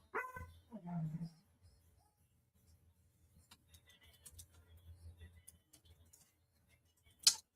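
A dog gives a couple of barks early on, then quiet background rustling and faint movement follow, ending with a sharp sudden noise.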